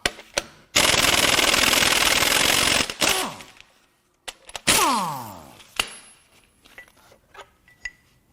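A power tool, likely an impact wrench, loosens the crank pulley bolts on a Dodge 3.6 Pentastar V6 during an engine teardown. Two loud sustained buzzing bursts with winding-down whines are followed by scattered clanks and rattles.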